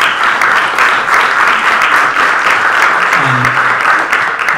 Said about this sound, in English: Give yourselves a round of applause for having gotten us this far.